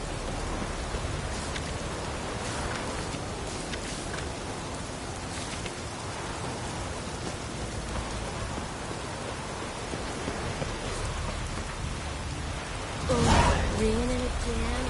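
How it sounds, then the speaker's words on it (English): Steady rain falls in The Witcher 3 as a constant hiss of drops, with a brief louder burst near the end, heard alone and at moderate volume. "Raining again."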